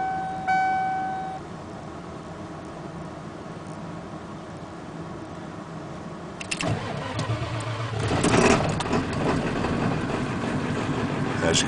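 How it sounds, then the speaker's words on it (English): A 1995 Ford F250 Powerstroke diesel truck with a 5-speed cranks over and fires on a cold start, then settles into a steady, fairly quiet idle close by after a constant low rumble beforehand. "it starts right up, and it's actually pretty quiet for a diesel."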